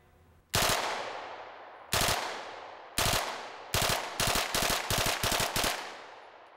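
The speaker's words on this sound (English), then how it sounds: "Next is 3 shot bursts. Every time you pull the trigger, three rounds are coming out of it." A gun fires sharp, loud reports in a range setting, starting with widely spaced shots and then speeding up into a quick run of closely spaced shots, with no talking.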